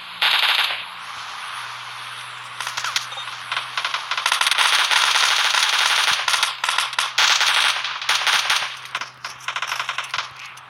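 Rapid automatic gunfire in PUBG Mobile Lite, dense and loud bursts of rattling shots that fill the clip, with a steady low hum underneath and no talk.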